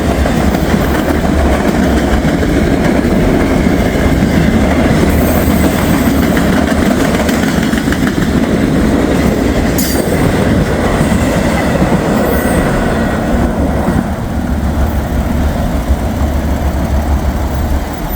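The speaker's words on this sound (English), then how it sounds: "there goes that train" A train rumbles past close by, a loud steady roar of wheels and rail clatter lasting the whole time, with occasional high metallic squeals.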